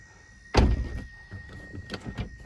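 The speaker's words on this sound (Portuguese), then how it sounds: "Vou fechar devagar porque o vidro tá caído" Car side window being raised slowly on a car whose glass has dropped, ending in a solid thunk as the glass seats, followed by fainter knocks and rattles.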